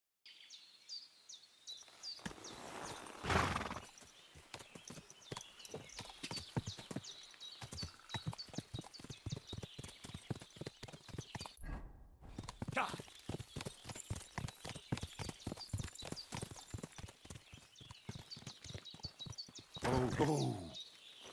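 A horse's hooves clip-clop in a steady walking rhythm in the video game Kingdom Come: Deliverance 2, close and continuous with a short pause midway, and birds chirp in the background.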